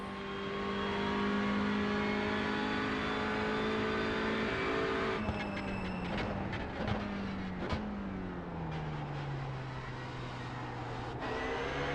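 A TCR race car engine in iRacing drones at high revs, then drops through gear shifts and downshifts into braking, with brief clicks and a falling pitch, close and loud, without talk.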